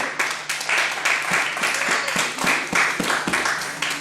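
A church congregation applauds together, a dense burst of many hands clapping in an even rhythm that holds steady for a few seconds, close and full.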